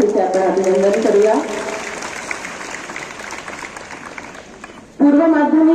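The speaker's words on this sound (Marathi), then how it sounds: "जोरदार टाळ्या वाजवून तिचे आपण अभिनंदन करूया।" Audience clapping at a school Independence Day celebration at Usharaje High School, a steady broad wash of applause through the middle, with a voice speaking over a microphone at the start and again at the end.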